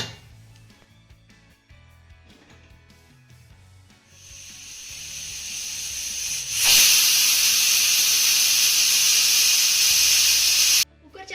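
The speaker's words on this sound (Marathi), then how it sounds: "कुकरच्या तीन शिट्ट्या करून घ्यायच्या आहेत" A pressure cooker on a kitchen stove builds from a rising hiss into a loud, sustained whistling jet of steam that runs steadily for several seconds and then cuts off abruptly.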